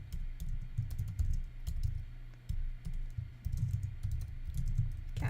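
Rapid typing on a computer keyboard, clicks falling in uneven bursts with brief pauses, close and fairly quiet over a low background hum.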